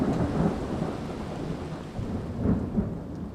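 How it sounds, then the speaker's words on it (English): Rain falling outdoors during a thunderstorm, with a steady low rumble of thunder throughout and a louder crack of thunder near the end. "I think she taped the rain."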